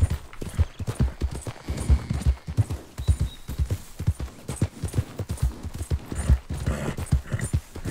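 Horse hooves gallop in a rapid, steady clip-clop rhythm in Red Dead Redemption 2, loud and close, with a voice urging the horse on at times.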